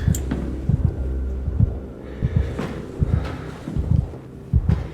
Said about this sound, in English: heartbeat in my head.